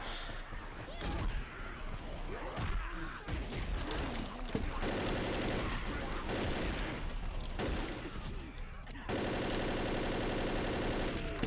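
Rapid bursts of gunfire from the video game Left 4 Dead rattle fairly quietly, with repeated shots under occasional speech.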